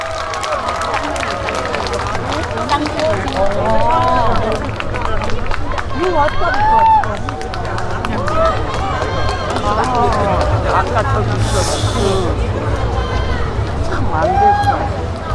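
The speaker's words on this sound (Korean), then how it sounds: "여러분 큰 박수 부탁드릴게요" A crowd at the Sorae port festival applauds as the singer takes the stage, with dense clapping and cheering mixed with voices and crowd babble all the way through.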